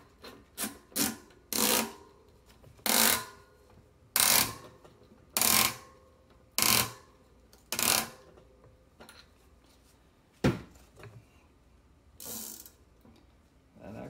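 A cassette part on a mid-drive e-bike is screwed down by hand: about a dozen short ratcheting clicks and rasps come in uneven bursts, close and fairly quiet, with no talking.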